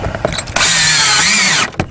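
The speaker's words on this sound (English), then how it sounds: "when you're drilling in the vinyl" A power drill whines steadily as it bores into vinyl siding during a cable installation, a loud close burst of about a second with faint clicks before and after.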